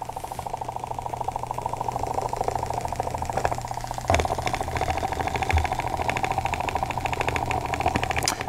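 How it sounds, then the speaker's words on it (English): A small electric motor with a piece of tape stuck on as an unbalanced weight shakes a homemade scooter, giving a steady, continuous mechanical buzz and rattle close by with a few sharper knocks and no talking. "The tape has unbalanced those spinning forces and our scooter is scooting."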